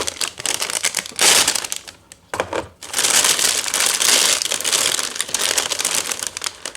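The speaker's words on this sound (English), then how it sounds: "Then another bag of plastic parts." A plastic bag of RC Bobcat model kit parts crinkles loudly up close in bursts of rustling and crumpling, with short pauses between handlings.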